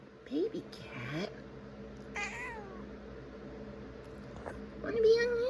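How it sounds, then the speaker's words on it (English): A kitten meows several times, short rising cries spread across the clip with a longer, louder meow at the end, close to the listener over a low background hum. "Baby cat."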